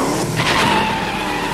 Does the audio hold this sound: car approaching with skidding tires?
yes